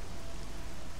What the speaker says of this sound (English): It's raining. Should provide some cover.